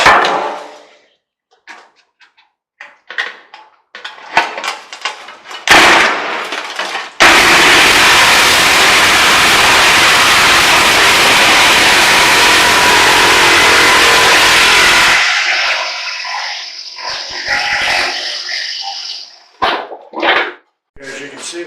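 A saber saw cuts loudly and steadily for about eight seconds, a harsh buzzing drone that starts abruptly and stops just as suddenly, set between quieter stretches of scattered clatter and handling noise.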